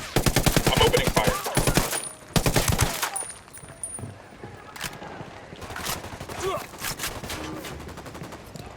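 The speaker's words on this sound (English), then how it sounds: "I'm opening fire." Automatic gunfire in the video game Ghost Recon Wildlands, with loud rapid bursts up front, a short pause, another heavy burst, then scattered lighter shots and impacts trailing off.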